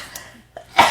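A single sharp human sneeze bursts out close and loud at the end, after a few quiet breaths.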